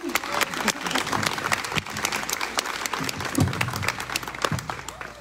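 Applause from an audience at an Italian election campaign closing event, steady clapping from a crowd filling the whole stretch, moderately loud and continuous with no break.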